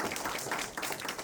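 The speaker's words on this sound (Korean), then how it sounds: "박수 부탁드립니다." An audience at a humanoid robot MINDBOT demonstration claps for an engineer being introduced, a short burst of soft, fairly distant applause.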